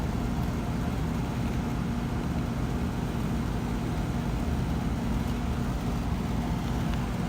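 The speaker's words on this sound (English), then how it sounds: "I apologize for the background noise because I'm cold, our heaters are loud." Loud workshop heaters run in a cold shop, a steady, dense broadband roar with low hum that stays constant and unbroken throughout, with no talk over it.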